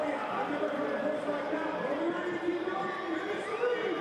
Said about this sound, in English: Quite a rowdy crowd this evening in historic Grayson Stadium.